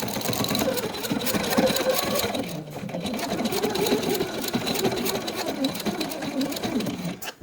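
Sewing machine stitching quilt fabric scraps, a steady close whir of the needle running continuously, with a brief pause partway through.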